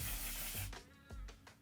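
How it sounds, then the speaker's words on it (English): A One Size makeup setting spray gives a quick, close hiss for about half a second, followed by quieter soft rustles, with no talking. "lock it in place with the One Size setting spray"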